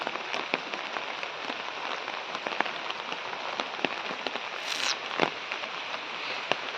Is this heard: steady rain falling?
yes